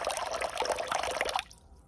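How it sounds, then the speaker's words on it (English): Water pours steadily into a reptile pond container used as a planter, a bright close splashing fill that runs for about a second and a half before cutting off abruptly. "Get it filled back up with water here."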